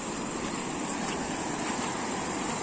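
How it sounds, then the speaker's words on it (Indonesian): River water at Sungai Bangek rushes steadily and evenly close by during a crossing, a dense unbroken wash with no voices. "Tuh, satu lagi kita nyebrang sungai."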